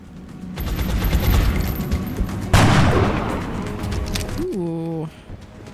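Sniper rifle fire in XCOM Enemy Within, a burst of rapid shots followed by one loud sharp report midway with a long echoing tail, then a rising electronic tone near the end.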